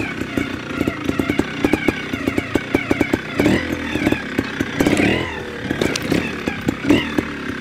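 Vintage SWM motorcycle ridden nearby, its engine popping and revving in uneven bursts with rapid staccato firing and occasional throttle blips, loud and close throughout.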